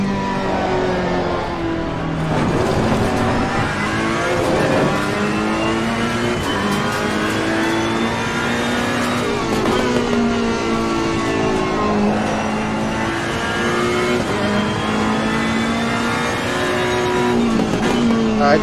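A Honda NSX race car in a racing video game, its engine revving loudly and continuously with rising and falling gear pitches, occasional tire squeal, and no talk.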